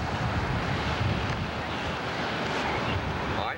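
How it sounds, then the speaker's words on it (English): Strong wind buffeting a microphone outdoors on a golf course, a loud continuous roaring rush with gusty swells that covers everything else for a few seconds. "Got a little wind, but that doesn't make any difference."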